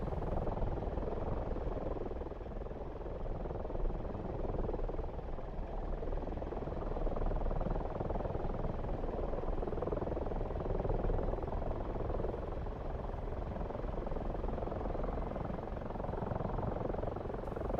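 In the DCS flight simulator, a Spitfire's piston aircraft engine drones as a steady, dense, unbroken roar for the whole stretch, loud and close, with no voices over it.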